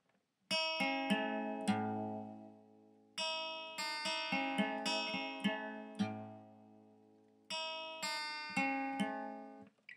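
Guitar chords ring out as arpeggios, plucked note by note and left to sustain, in three repeated phrases spaced a few seconds apart, played alone and fairly close.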